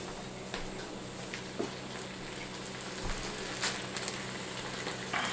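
Green onions stir-fry with tofu in a hot wok, a steady close sizzle and crackle running throughout with light stirring scrapes and a few louder pops, no voices.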